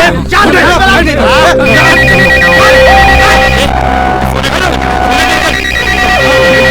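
A telephone rings loudly in a 2017 Hindi film scene, giving a repeating electronic ringtone that sounds without a break for several seconds.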